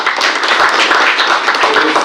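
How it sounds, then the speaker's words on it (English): A crowd claps steadily for a football team at a state governor's reception, a dense sustained round of applause heard throughout. "I think they all deserve another round of applause"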